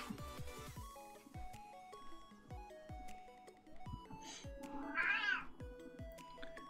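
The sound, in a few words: pet cat Sam meowing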